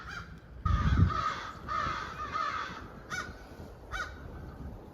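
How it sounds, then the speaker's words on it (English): Several crows caw outdoors on a spring day, a series of harsh separated calls at moderate distance over a low background rumble, with a couple of louder caws near the end. "What message do the crows have for us today?"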